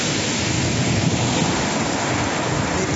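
Ocean waves washing ashore near a coastal bunker campsite in Albania, a loud continuous roar of surf and rushing water filling the whole clip, with no voices present.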